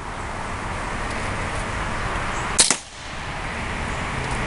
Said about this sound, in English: we're going to be shooting at the Shoot-N-C with the wad cutters